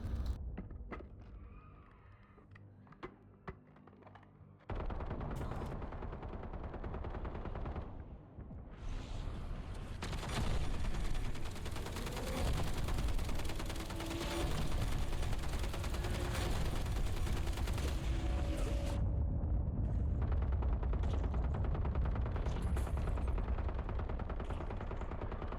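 Gunfire and explosive bursts fill a Black Ops 7 Glitch Fracture endgame fight. Quieter game ambience gives way to a long, loud, dense barrage of shooting that cuts off abruptly near the end.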